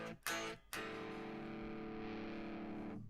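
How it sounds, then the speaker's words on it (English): An electric guitar through a modern crunch distortion effect in GarageBand plays two short crunchy stabs, then one sustained distorted chord that rings for over two seconds before being cut off. "Modern crunch."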